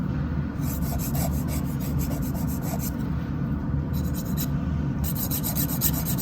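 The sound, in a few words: filing fingernails with a nail file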